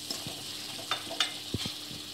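Spice masala with chili powder frying in a pan for Bengali-style aloo dum, with soft scraping stirs and a faint, steady sizzle over about two seconds, no talk.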